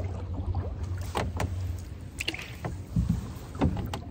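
Paddle strokes dip and pull through the water beside a canoe on a Maine outing, making a few soft, close splashes and drips in a quiet setting.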